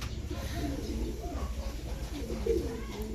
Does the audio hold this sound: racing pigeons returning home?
yes